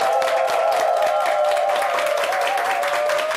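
Studio audience applause welcoming magician Jeon Beom-seok on a morning television show, a loud, dense and steady clapping from a crowd, with a sustained tone running beneath it.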